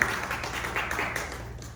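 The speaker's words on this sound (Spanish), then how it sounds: "Dale un fuerte aplauso al Señor." A congregation claps together during a church service, a steady wash of applause filling the whole clip at moderate loudness with no voices over it.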